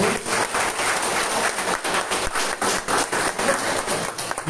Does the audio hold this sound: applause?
yes